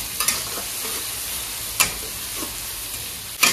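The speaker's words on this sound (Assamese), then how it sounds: "একদম ধুনীয়াকৈ ভাজি আছোঁ" Masala and tomatoes for a mutton curry fry in a pan with a quiet, steady sizzle, broken by three sharp scrapes of a spatula stirring at intervals. No one speaks.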